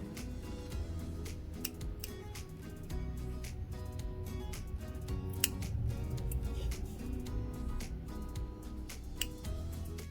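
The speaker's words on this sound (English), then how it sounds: "I just make a little cut and then carefully snip" Scissors make small, careful snips at threads while sewing a bear hoodie, several sharp clicks scattered over a low background hum with no speech.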